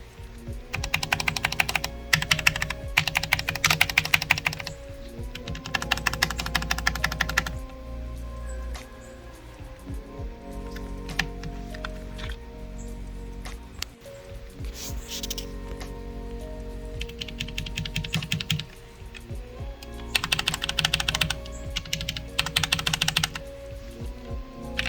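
Typing on a keyboard fitted with custom DIY resin keycaps, rapid bursts of clacking keystrokes broken by brief pauses, close and clear throughout.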